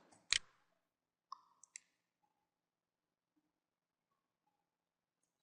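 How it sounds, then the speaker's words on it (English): A few sparse key taps on a computer keyboard, close and quiet, with long silent gaps between the isolated clicks. "So I'm going to click on the caps lock and type DC."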